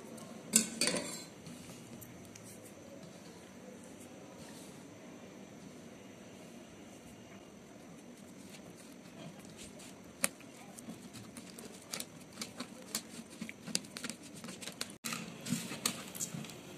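Wheat flour dough being mixed with jaggery syrup in a bowl gives soft, scraping, squelching sounds and scattered light clicks against a quiet background, with a brief voice near the start.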